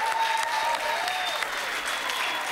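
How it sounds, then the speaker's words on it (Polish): An audience at a Red Bull show event bursts into sustained applause, a dense even roar of clapping from many people that holds steady and loud for the whole short stretch. "Wielkie brawa!"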